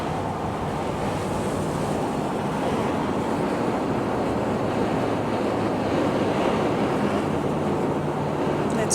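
Steady, loud wind roar buffets the microphone for the whole stretch as an RV climbs a mountain road in Utah, a dense broadband rush with no breaks and no voices.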